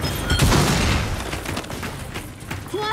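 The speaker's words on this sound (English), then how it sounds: "Throwing flashbang!" In Gears 5, a flashbang grenade goes off with a loud booming burst early on, followed by chaotic combat noise and shots that fade slightly before swelling again.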